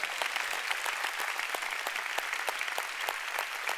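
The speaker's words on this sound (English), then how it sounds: "Let's give the Lord a big hand." A church congregation clapping together at a sermon, brisk, dense applause with sharp individual claps standing out, steady throughout.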